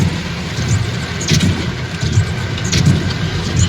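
Car pushing through water on a flooded road during a road trip, a steady loud wash and rumble with occasional splashes and surges, close and continuous with no talking.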